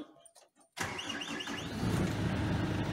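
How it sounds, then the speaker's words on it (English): A New Holland LM5 25 forklift engine cranks and fires after a brief quiet start, then settles into a steady, close, loud idle with no talk. "Okay, right, I'll start the forklift."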